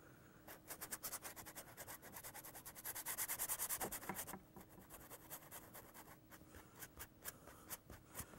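A brush rubs and pushes paint across a painting in quick rhythmic scrubbing strokes, close and soft, with a denser burst of scraping midway before the strokes resume.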